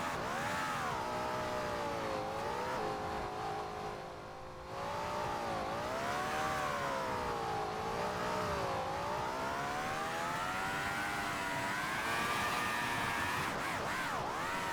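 A game car drifts across a Roblox baseplate, its engine whining in a continuous synthetic rev that swoops up and down in pitch as it slides, loud and steady with no talking.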